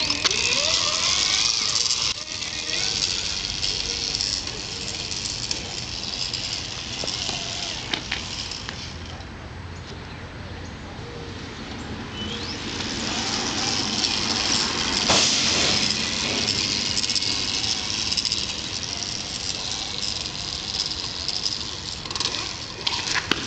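A one-wheeled self-balancing Segway is ridden back and forth, giving a steady motor whine and rolling noise that rises and falls as it moves, heard close with a broad, hissy wash of wind and mechanism noise.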